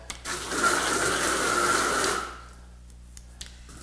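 Water gushes steadily from a garden hose used as a shop hose at about 45 psi, a loud broadband rush lasting around two seconds before it cuts off and leaves faint clicks.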